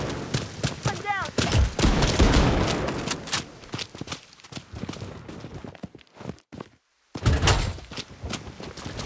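Gunfire in the video game Blood Strike: loud bursts of rapid shots, footsteps and thuds, with a short silent gap before another close burst.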